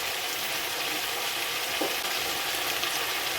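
Pumpkin and prawn masala sautéing in a pan, a loud, close, continuous sizzling hiss with a faint stir partway through.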